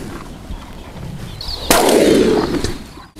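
A loud shotgun blast rings out once during a guinea fowl hunt, with a sharp onset and a noisy tail that fades over about a second, heard outdoors against quiet background sound.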